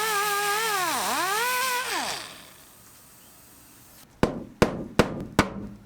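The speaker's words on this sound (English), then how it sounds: "I'm going to go ahead and grind more on the right side, and then I should be able to punch that through." Four sharp hammer blows land in quick succession, knocking out a rivet on an aluminum jon boat, preceded by a sweeping tonal grinder-like whine that winds down.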